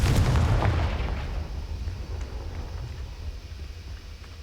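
The Confringo explosion spell in the Hogwarts Legacy video game erupts as a loud, deep booming blast that rolls on into a long, gradually fading rumble, with no talking over it.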